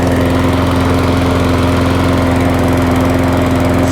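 A 21-inch BCM Big 20 walk-behind lawn mower runs steadily at full throttle after repair, a loud, close, continuous engine drone with a constant pitch and no speech over it.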